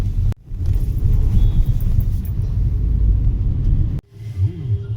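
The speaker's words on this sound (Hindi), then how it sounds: "फटाफट गाड़ी चलाऊंगी।" A car rumbles steadily from inside the cabin as it is driven, a loud continuous low engine and road drone with a brief dip near the start and a sharp drop near the end, no talk.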